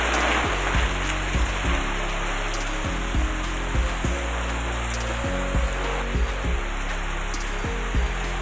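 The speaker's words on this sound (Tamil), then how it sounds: "இப்போ தான் மழை பெஞ்சிட்ருக்கு." Heavy rain pours after thunder in Munnar, a dense, continuous roar of rainfall close by, with irregular low thuds of drops striking a nearby surface throughout.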